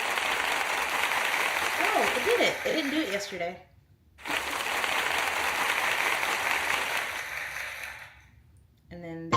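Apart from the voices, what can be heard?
applause sound effect on a streaming app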